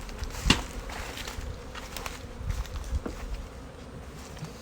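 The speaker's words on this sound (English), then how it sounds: "those bees on that hive, on the external hive." A soft, steady buzz of many bees fills the background, with occasional closer insects droning past and faint rustles and taps.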